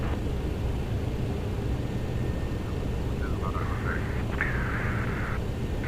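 A steady, even whine and rush from an MD-11F cargo jet's APU fills the scene at moderate level, with a few faint tonal chirps in the middle.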